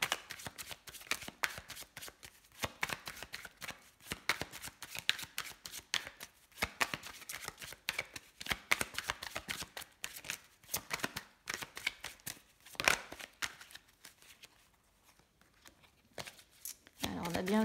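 Tarot cards are shuffled and laid out on a table in rapid, rhythmic riffling bursts that come close and clear, broken by short pauses, while someone speaks French over them.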